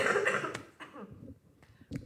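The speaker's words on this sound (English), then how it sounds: "I had to cough." A single cough from an adult during a relaxed podcast conversation, sharp and close, followed by a quieter throat-clearing rasp and a brief second burst near the end.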